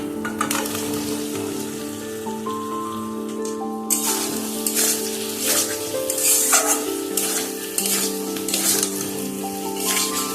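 Fried potatoes hitting hot spices in a pan while kanchkolar kofta is being cooked, giving a loud, steady sizzle with crackling bursts and stirring scrapes throughout, with no talking.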